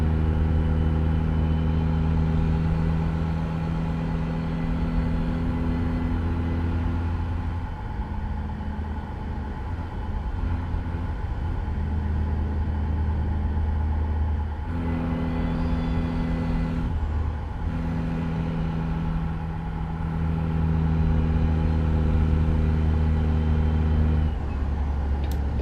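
A Kenworth K100E single-axle truck's engine droning steadily in American Truck Simulator, harmonic rumble shifting pitch a few times as gears change, loud and continuous with no voices.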